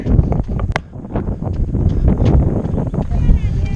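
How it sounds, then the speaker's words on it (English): Steady wind buffeting the microphone outdoors while fishing at sunset, a continuous low rumble with some background voices. "It's a little windy, feels good."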